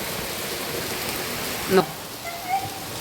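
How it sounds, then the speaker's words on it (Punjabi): Heavy rain pours steadily on a farm in an even, hissing wash that fills the whole stretch, with a brief louder splash or knock near the middle and a faint voice far in the background. "ਹੁਣ ਮੀਂਹ ਤੇਜ਼ ਐ"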